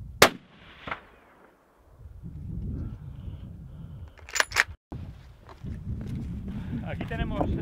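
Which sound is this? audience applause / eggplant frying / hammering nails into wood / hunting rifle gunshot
hunting rifle gunshot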